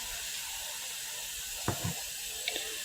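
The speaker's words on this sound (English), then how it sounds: "So I'm going to wash out my air fryer." Tap water runs into a sink while an air fryer is washed out, a steady broadband hiss with a few brief knocks and splashes against the basket partway through, no one speaking.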